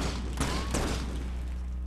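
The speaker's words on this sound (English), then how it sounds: "and then he shoots bombs." A ragdoll character fires bombs in LittleBigPlanet 2, giving two quick muffled bursts close together over a steady game background hum.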